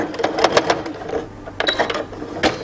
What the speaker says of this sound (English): then come in and stitch over your beginning stitch